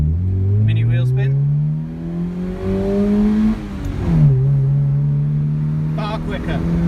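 A 1999 Honda EJ with a pod filter accelerates hard, its engine note climbing through rising revs, dropping at a gear change and climbing again, loud and close from inside the car, with voices talking over it.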